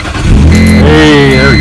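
A BMW 330ci engine cranks and catches after a new battery goes in, rising into a loud, steady idle with a clear rising tone, very close.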